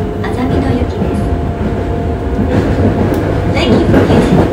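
A Yokohama Municipal Subway Blue Line 3000A train with Mitsubishi GTO-VVVF traction rumbles along underground, heard from inside the car as a loud, steady roll with faint clicks and a thin whine over it.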